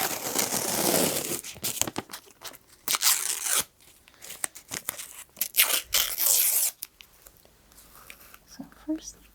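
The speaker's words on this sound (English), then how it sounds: "I'm going to be placing a few pieces of tape around, and then we'll make some marks." Pieces of tape are torn off close up during a traditional shoe fitting, with repeated crisp rips and crinkles in uneven bursts separated by short pauses.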